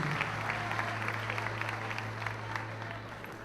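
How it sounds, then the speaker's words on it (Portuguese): A church congregation claps steadily throughout, a dense patter of applause over a low constant hum, with no talking. "os que podem, tomem o seu assento aplaudindo a Jesus"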